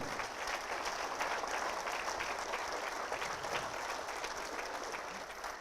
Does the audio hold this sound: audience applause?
yes